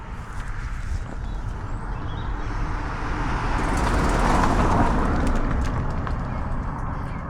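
An Amazon delivery truck rolls past on a quiet country road, a steady broadband engine and tyre rumble swelling as it nears and then holding close and loud, with no talk.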